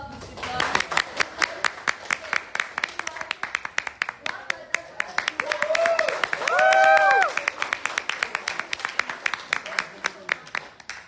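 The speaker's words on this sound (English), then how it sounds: "let's clap with the clap." A training-class audience claps in a rhythmic, fairly steady beat of sharp close claps, with voices calling out over the middle stretch before the clapping continues alone.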